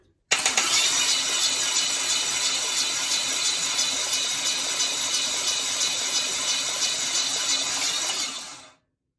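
A carbureted LQ9 engine in a 1973 Firebird cranks on the starter in one continuous, loud, steady grinding whir for about eight seconds, then cuts off abruptly.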